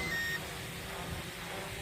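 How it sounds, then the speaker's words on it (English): A single short high-pitched electronic beep from a Traxxas Aton quadcopter transmitter at the start, followed by a low steady hum of background noise. "The transmitter beeps"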